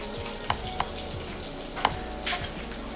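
Butter sizzling in a hot pan while cornbread stuffing is prepared, a steady soft frying hiss with a few sharp pops and a brief scrape of stirring.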